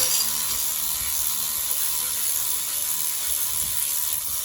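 A ratchet with a small socket backs out a long alternator bolt on a 2007 Trailblazer 4.2, giving a steady, close, continuous whirring click with no pause and no talk.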